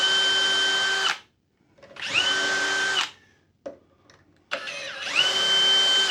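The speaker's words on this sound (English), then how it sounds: "To avoid splitting the plywood, I'm going to drill" A power drill bores pilot holes into plywood in three loud bursts of whining motor, each about a second long, separated by brief pauses with faint handling noise.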